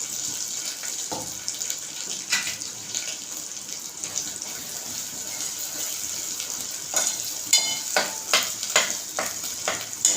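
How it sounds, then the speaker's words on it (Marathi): Ground masala paste fries in oil on a low flame for a Konkan black pea sambar, a soft continuous sizzle with occasional spoon scrapes that become more frequent near the end. "गॅस मी स्लो ठेवलेला आहे चांगलं आपलं हे तेलात काही वाटण परतलं पाहिजे चांगलं परतू दे"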